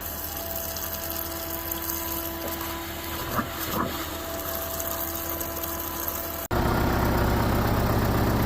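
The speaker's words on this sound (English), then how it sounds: "This is a 20-gallon-a-minute pump on this guy, and it will spit out some fuel." A 20-gallon-a-minute GPI fuel pump runs with a steady whirring drone and a continuous rushing flow, close and loud, then its tone shifts abruptly near the end to a heavier, deeper roar, with no talking.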